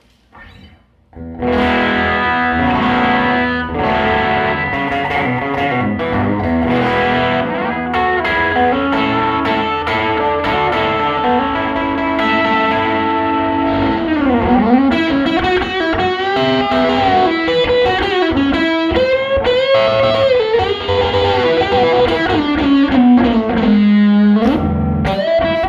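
A Teye La Azteca electric guitar is played loud and sustained through effects, with distorted, chorused chords and bending melodic lines running continuously for about twenty-five seconds.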